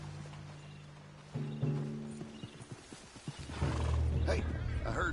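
A spooked horse in Red Dead Redemption II snorts and whinnies with hoof clatter, loud and close, the agitation building toward the end over low game ambience.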